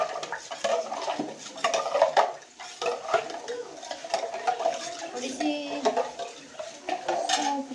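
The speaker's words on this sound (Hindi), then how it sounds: "कढ़ी के लिए घोल तैयार कर लेती हूँ फटाफट से" Gram flour batter for kadhi being whisked in a bowl, a busy run of quick scraping, clinking strokes with a steady rhythm, close and moderately loud in a home kitchen.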